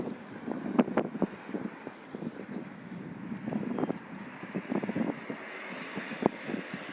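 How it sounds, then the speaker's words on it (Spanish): Strong wind buffets the microphone at the bay in Old Havana, a steady broadband rush with gusty bumps and scattered faint clattering knocks throughout, with no voices. "van a sentir el sonido del viento bastante fuerte"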